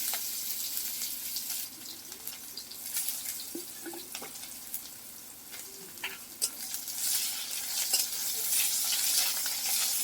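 Onions fry in oil in a pan for a tomato and rohu fish curry, giving a soft, continuous sizzle. Occasional stirring scrapes break in, and the frying grows a little louder toward the end.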